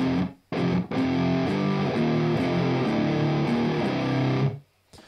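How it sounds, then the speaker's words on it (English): An electric guitar plays sustained, slightly distorted chords that ring out in a roomy, spacious reverb before stopping abruptly. "this reverb is stereo and there's room and there's ambience"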